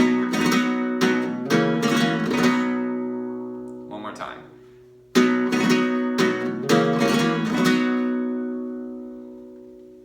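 Fast bursts of flamenco rasgueado strumming on guitar with sharp percussive flourishes, a brief pause, then more rapid rhythmic strumming in a Sevillanas pattern ringing out and fading.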